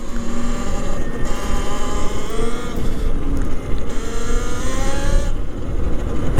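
A Talaria MX4 8 kW electric bike being ridden, giving a steady motor whine that rises and falls in pitch as it speeds up, under heavy buffeting wind noise throughout.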